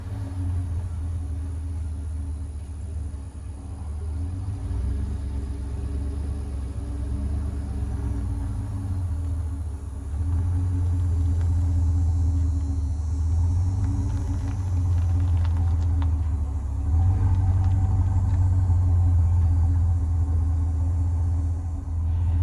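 A new Ford F250 pickup truck's engine idles close by as a steady, deep low rumble that swells slightly louder partway through, with no voices.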